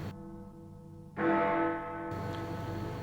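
A bell strikes twice, each blow leaving a clear ringing tone that sustains and decays, the second strike brighter and louder, heard on its own without any voices.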